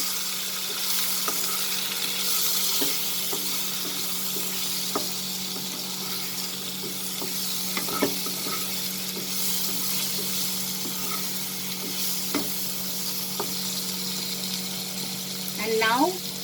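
Tomatoes and potatoes stirred and sizzling in a pan over reduced flame for a long bean and potato sabzi, a steady frying hiss with scattered scraping clicks from the spoon, a brief louder scrape near the end.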